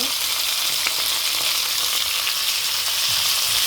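Fennel seeds and small shallots crackle in hot oil for a banana-flower stir-fry, a loud, dense, steady sizzle filling the whole moment.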